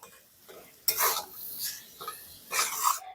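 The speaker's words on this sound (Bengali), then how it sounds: "সবকিছু দিয়ে খুব ভালো করে একটু মিশিয়ে নিয়েছি" A potato and cauliflower samosa filling is being mixed, giving a few soft, separate bursts of scraping and stirring against a bowl, faint and close with quiet gaps between strokes.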